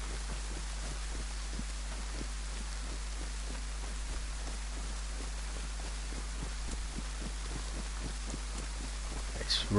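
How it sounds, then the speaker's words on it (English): Steady rain falls throughout the survival game DayZ, a dense even patter of drops hitting surfaces with no voices, holding at a constant moderate level for the whole stretch. "It's raining."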